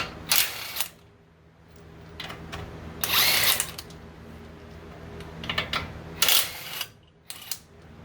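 A power tool whirs in short, loud bursts while bolts are removed from a rear wheel assembly for a 15-inch rear wheel conversion, with clicks and handling noises between the runs.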